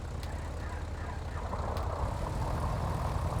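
A Piper PA44 twin-engine light aircraft's left engine cranks and catches, a low rumbling drone that swells slightly as it comes to life alongside the other engine's steady hum.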